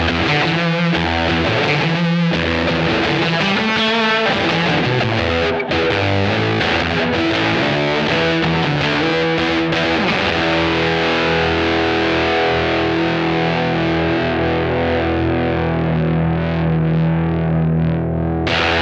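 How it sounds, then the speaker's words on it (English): Telecaster with fuzz and a short slapback delay from a TC Electronic Flashback Mini plays a steady, driving riff of thick distorted notes and bends, loud and continuous for nearly twenty seconds, then ringing out on a held chord. "here is the Flashback Mini for just a little bit of slap back delay to go with this riff"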